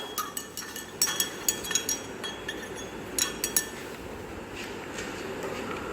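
A glass rod clinks repeatedly against the inside of a glass test tube while stirring, in quick irregular bursts of sharp, light taps over a steady low background hum.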